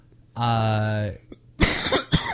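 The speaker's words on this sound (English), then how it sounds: "Stop coughing." A sustained voiced tone, then a couple of harsh, noisy coughs bursting out nearby.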